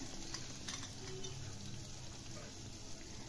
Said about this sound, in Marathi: आता आपण ठेचलेलं हे हिरवी मिरची आणि लसूण टाकूया।